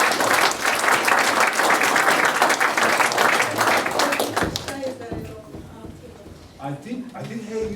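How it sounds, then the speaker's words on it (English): Audience in a lecture hall applauds Marika Sherwood after her Len Garrison Memorial Lecture, loud dense clapping for about four seconds that then tapers off into scattered claps and a brief voice. "One more time, round of applause. Marika Sherwood."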